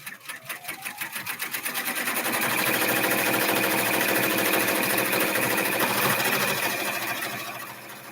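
An embroidery machine tacks down the back panel of a fabric bag, its needle hammering in a fast, steady mechanical rhythm that speeds up at the start, then runs loud and continuous up close.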